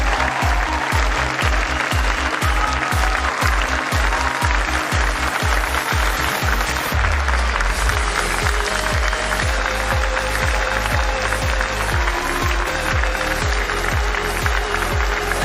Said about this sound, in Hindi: जबरदस्त तालियां होनी चाहिए। जोरदार तालियां, जोरदार जोरदार जोरदार।